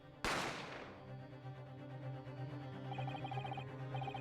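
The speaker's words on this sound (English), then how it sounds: "You heard the gunshot, you mean?" A single sharp gunshot cracks in a courtroom adventure video game, fairly faint, then fades under a soft, steady musical tone.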